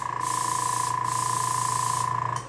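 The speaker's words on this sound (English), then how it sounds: "Spraying lots of cleaner out," An airbrush blasts cleaner through the brush in a steady, loud hissing spray that runs almost continuously, with a couple of brief dips before cutting off near the end; no voices.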